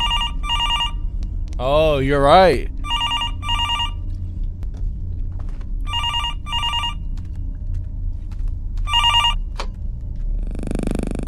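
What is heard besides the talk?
telephone ringing in a scary video game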